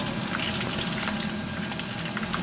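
Duck pieces frying with galangal in a pan of hot oil give a steady, dense sizzle and crackle that holds evenly throughout, with no voices.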